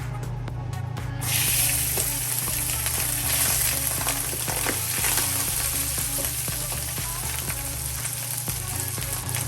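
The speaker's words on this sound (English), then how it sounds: "Now I'm going to go ahead and add my rice." Rice hits a pan of hot vegetable oil for Chinese chicken fried rice, giving a loud, steady sizzle with scraping and stirring clatter that runs throughout, close and without talk.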